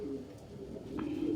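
Pigeons cooing at an indoor nest box, a soft, low continuous burbling coo held close by, with a faint click partway through.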